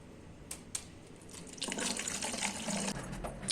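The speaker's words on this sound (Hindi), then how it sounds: "मैंने फिल कर रही है बॉटल पानी पीने के लिए" A tap runs steadily into a water bottle in a home kitchen, a close, continuous splashing stream after a couple of faint clicks, with no talking.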